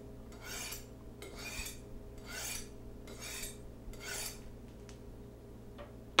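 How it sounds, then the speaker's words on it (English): A kitchen knife is drawn along a honing steel in a steady series of about six soft, rasping strokes, evenly spaced and fairly quiet against a low background hum. "Remember to hone your knife often."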